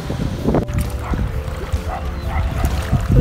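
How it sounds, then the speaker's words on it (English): A dog barks and yips a few times amid a noisy outdoor background near a shipwreck at Fort William, sounding somewhat distant, with some voices in the mix. "I can still hear the dog barking."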